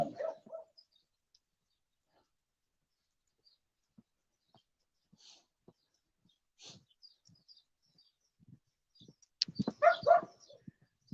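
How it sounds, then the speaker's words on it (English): A small dog barks in short scattered yaps from a distance, quiet and sparse at first, then a louder cluster of barks near the end, with faint bird chirps around. "There's that little dog always barking."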